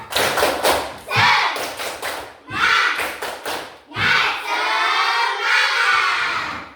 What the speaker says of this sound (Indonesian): Coba supaya semakin semangat, kita tepuk semangat dulu.